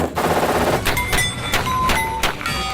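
A machine gun fires loud, close shots at a quick, fairly regular pace, each sharp crack followed by a short ringing tail.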